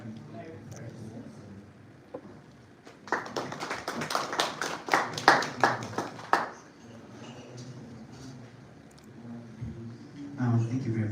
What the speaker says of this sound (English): Another round of applause to Bana for the presentation